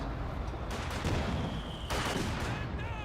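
Mortar shells and gunfire crash and crackle in a Company of Heroes 2 battle, a dense, loud run of overlapping blasts and rattling shots with two sharper bursts standing out.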